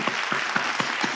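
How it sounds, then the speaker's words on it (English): Brief burst of audience applause at a Rotary club presentation and Q&A session, a dense even patter of clapping with a few sharper claps, fairly quiet and heard alone. "let's have a great round of applause for a wonderful presentation Q&A session"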